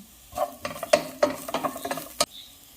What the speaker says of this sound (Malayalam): ഇത്രയും ചേർത്ത് പച്ചമണം പോകുന്നവരെ ഒന്ന് ഇളക്കാം